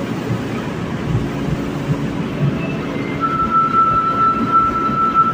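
A subway train rumbles at a Midosuji Line platform at Shinsaibashi Station, Japan, with a low, steady roar, and a high squealing tone rises from the rails in the second half.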